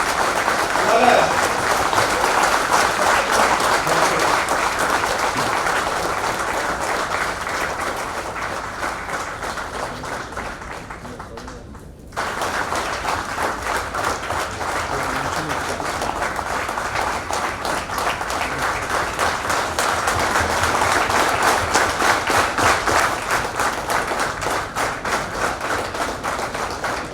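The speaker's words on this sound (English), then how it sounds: "Comrades, please give a big round of applause." Conference audience of union comrades gives a long, loud, sustained round of applause that dips briefly near the middle, then swells again and continues steadily to the end.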